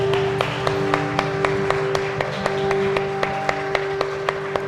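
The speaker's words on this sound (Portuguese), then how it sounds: "Dê um aplauso ao Senhor Jesus." A church congregation clapping in praise, a steady rhythmic beat of hands repeating about three times a second over a sustained background, loud and close.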